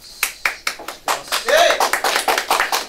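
A live concert audience claps, starting with a few separate claps that swell into steady, fairly loud applause with a voice briefly heard over it.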